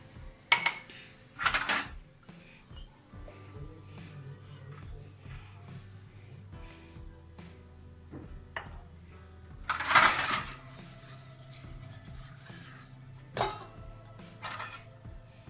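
Steel utensils and dishes being scrubbed with soap and detergent in a home kitchen sink, with scattered metallic clinks and clatters and soft rubbing between them, close and fairly quiet.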